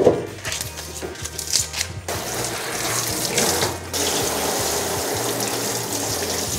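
Running tap water pours into a sink while green onion roots are rinsed for tteokbokki prep, a steady close splashing gush that shifts as the stream hits the vegetables.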